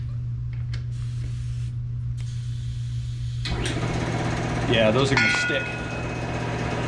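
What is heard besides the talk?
air compressor running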